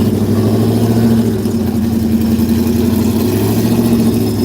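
A loud race car engine running steadily at an open mile racing event in Texas, a deep sustained droning hum with a low pulsing throb that holds nearly constant throughout.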